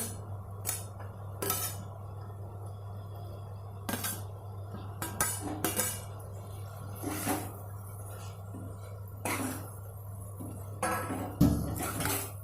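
Chicken pieces and potatoes going into a pot for sesame chicken and being stirred, a string of irregular metallic clinks and scrapes of a utensil against the pot over a steady low hum.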